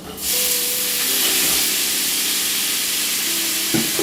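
Cauliflower pieces dropped into a pan of very hot oil and butter, bursting into a loud, steady sizzle and hiss that holds evenly before a brief clatter near the end.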